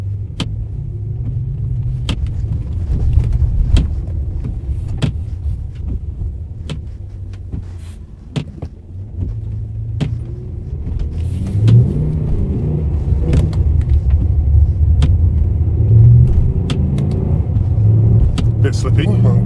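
A car fitted with an S85 V10 engine and a DCT gearbox drives on the road, a steady engine rumble with rises and falls as it pulls away and shifts, heard from inside with some clicks and knocks.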